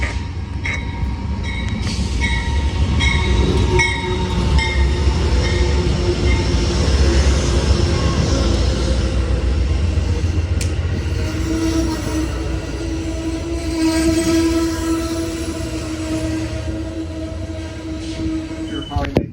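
An Amtrak Coast Starlight passenger train hauled by a P42DC diesel locomotive rumbles past steadily, wheels clattering and squealing faintly on the rails, with a low engine drone throughout.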